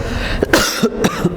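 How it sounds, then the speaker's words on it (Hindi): A person coughs several times in quick, harsh bursts, close and loud, with no talking. "एक तो मेरा खांसी जब से हुआ है तब से ठीक ही नहीं हो रहा है"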